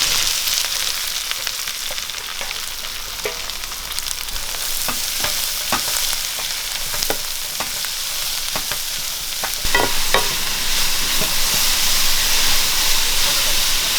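Sliced onions fry in a pan with mustard seeds for a Kerala-style beef curry: a steady, hissing sizzle close by, punctuated by repeated crisp clicks and scrapes of stirring.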